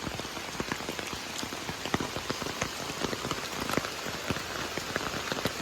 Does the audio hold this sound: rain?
yes